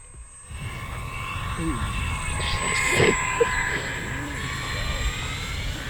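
An RC Dynam Cessna 188 crop duster model airplane, 1500 mm wingspan, drones steadily overhead at about a third throttle as it climbs out from a low pass, its electric motor whine rising slightly near the middle under faint outdoor ambience.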